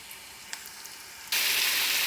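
Broad beans fry in a pan: a faint crackle gives way to a sudden loud, steady sizzle that continues without talk.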